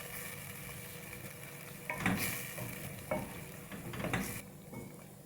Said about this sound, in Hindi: मसाले डालकर फिर भून लेंगे।